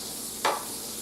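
Onions sizzle softly in a pan for caldo verde soup, a faint steady hiss broken by one short scraping stir near the middle.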